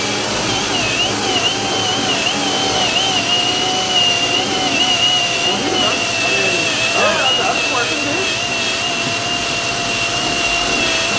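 An eraser wheel strips adhesive from the paint of an OBS Ford truck, producing a continuous, loud, high-pitched whine that wavers in pitch as it grinds against the panel.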